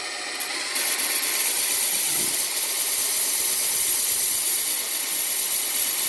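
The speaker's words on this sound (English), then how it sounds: "presenting the heel of the cutter to the face of the grinding wheel" Grinding wheel sharpening a tungsten carbide cutter, with the heel of the cutter held against the wheel face, giving a steady, loud, continuous high-pitched grinding hiss with no pauses.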